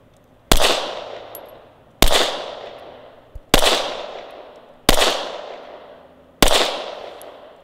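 Five sharp, loud Glock 19X pistol shots fired one at a time at an even pace, roughly a second and a half apart, each with a ringing decay outdoors.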